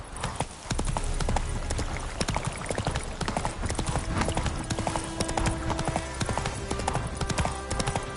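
Roach the horse gallops in The Witcher 3, with loud, rapid, continuous hoofbeats and a brief whinny, close and sustained.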